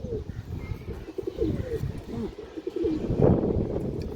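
A pigeon coos near at hand, soft repeated throaty calls in short rolling phrases over a background of other birds and muffled activity, no clear talk.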